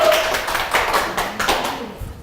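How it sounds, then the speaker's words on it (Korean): An audience in a school education lecture gives brief applause, a short burst of clapping that fades within about two seconds. "박수로 환영해"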